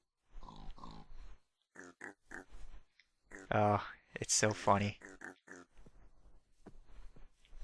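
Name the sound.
piglets oinking and grunting in a video game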